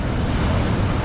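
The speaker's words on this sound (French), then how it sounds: "Avec le bruit des vagues." Ocean waves wash steadily in a continuous broadband rush, loud and close, with wind noise buffeting the microphone.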